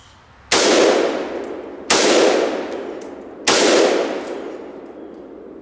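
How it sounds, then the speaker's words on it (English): Three loud, separate gunshots from a Century Arms AK rifle fired at orange clays outdoors, each a sharp crack with a ringing tail that fades before the next, spaced roughly a second and a half apart. "we're going to go ahead and start shooting at these orange clays"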